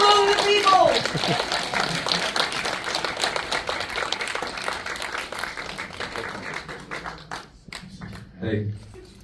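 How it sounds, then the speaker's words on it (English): Applause and clapping from a screening audience for guest J.J. Perry, dense and lively at first, then thinning into scattered claps, with voices and cheers mixed in. "Please keep that applause going for our guest tonight, JJ Barry."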